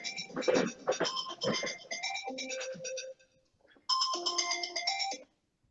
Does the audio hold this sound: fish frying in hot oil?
no